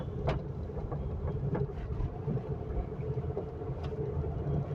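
A car moving slowly in second gear on a narrow road, a low steady engine and road rumble heard from inside, with faint clicks and taps over it and no speech.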